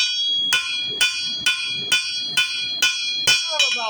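Hammer blows ringing on hot steel over an anvil while a flat-bar leaf is forged, eight sharp metallic strikes at a steady, even pace, close and loud, with a bright lingering ring after each hit.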